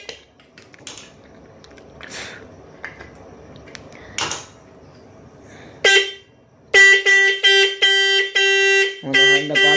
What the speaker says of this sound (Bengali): আমাদের হর্নটা বাজছে, এটা হালকা টাইট দিয়ে দিচ্ছি